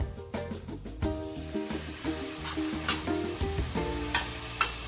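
A wet spice paste, loosened with a splash of water, is sautéed in a pan for a prawn, pumpkin and saag dish, with sharp repeated scrapes and clacks of stirring over a steady crackling sizzle, close and busy.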